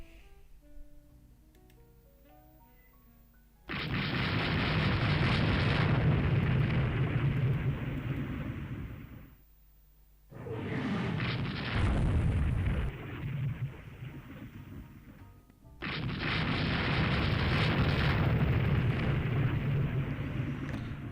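Heavy 14-inch coastal gun battery firing in the naval strategy game Rule the Waves 3, three long loud booming salvos with rolling rumble, separated by brief quieter gaps, no voices.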